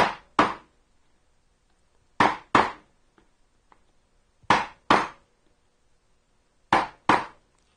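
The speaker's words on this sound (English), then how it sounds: "once again, I'll chisel down," Mallet blows driving a chisel into wood to cut dovetails, sharp crisp knocks landing in pairs with short pauses between each pair, close and loud in a quiet room.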